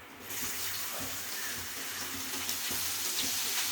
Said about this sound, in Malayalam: ഇപ്പം ചിന്തടിയിലെ എണ്ണ ചൂടായി വരുന്നുണ്ട്. അതിലേക്ക് ഞാൻ ഇഞ്ചിയാണ് ആഡ് ചെയ്യുന്നത്.